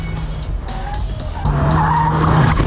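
Mazda MX-5 Miata race car skidding sideways, tires squealing under a droning engine that grows louder and steadier partway through, close and continuous.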